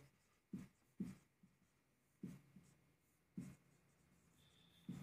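Pen strokes writing out a Class 10 quadratic equations math problem, heard as about five short, faint scratches spaced irregularly across a quiet background.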